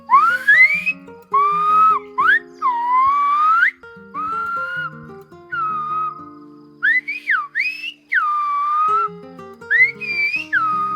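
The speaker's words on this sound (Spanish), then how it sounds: "That's Silbo Gomero, a whistled language spoken on La Gomera in the Canary Islands." Melodic whistling of Silbo Gomero, the whistled language of La Gomera in the Canary Islands, in quick, gliding phrases with frequent pauses, rising and falling like speech, clear and close.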